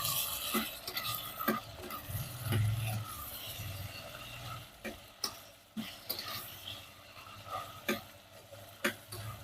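Sliced spiny gourd (kantola) with onion and garlic is stirred in a pan for a Gujarati shaak, giving quiet, irregular scraping and tapping strokes over a soft sizzle.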